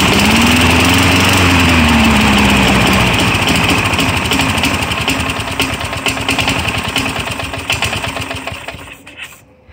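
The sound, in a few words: lawn mower starting up and running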